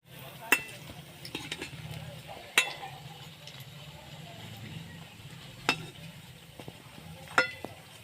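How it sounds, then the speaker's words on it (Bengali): Bread slices frying in a pan, a quiet steady sizzle under occasional sharp clinks of a utensil against the pan, with a few louder knocks spaced several seconds apart. "এই রুটির দুই সাইড ভালো করে লাল লাল করে ভেজে নেব"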